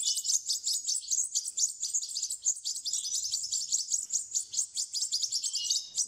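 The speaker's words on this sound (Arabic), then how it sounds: "الطيور جاعت لانه تاخرت عليها، هلا صار وجبتين ثلاثه من الصبح كمان عم تطلب" Goldfinch chicks about twelve days old chirp continuously in high, rapid, overlapping begging calls, close and fairly loud, with no talking.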